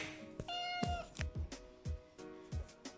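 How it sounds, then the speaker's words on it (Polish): A cat meowing to be let outside, giving a quick run of clear, close meows of varying length with short gaps between them. "No ja wiem, Kicia, że ty chcesz wyjść, ale nie możesz."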